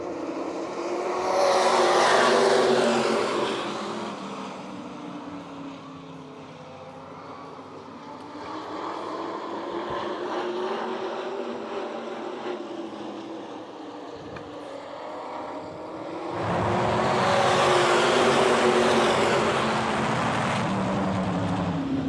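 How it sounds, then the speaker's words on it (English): Race cars roar around a track during a live main event, engines swelling loud as a pack passes, easing into a distant drone, then surging again as the next group comes by. "Mike Clark now trying to reel in that 41 car of Ashton Webster."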